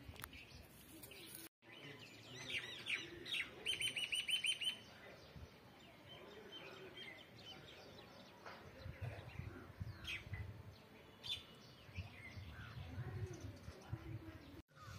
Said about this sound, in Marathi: त्याच्यावर असे छान असे पक्षी बसलेले आहेत, छान असा आवाज येतो त्यांचा।